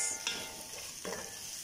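Leftover food made into fried rice is stirred and mixed in a sizzling pan, with steady frying hiss and scraping strokes of the spatula close by.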